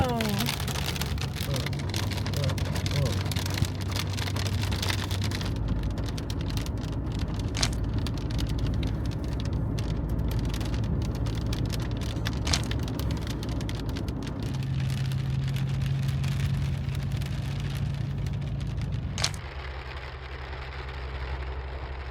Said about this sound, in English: It just started hailing out of nowhere.